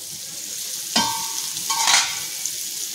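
Sliced bitter gourd cooking in a covered pan makes a steady, close sizzle, with two brief clinks or scrapes near the middle and no talking.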